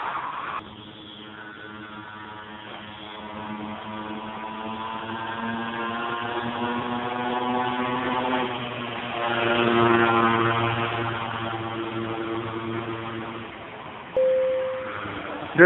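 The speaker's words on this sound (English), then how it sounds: "There's this guy who passes by every time I stand at this bus stop, and a little tiny itty bitty motorcycle" A tiny motorcycle passes a bus stop, its small engine buzzing in a rising and falling whine that swells as it goes by, then fades, with a brief sharp tone near the end.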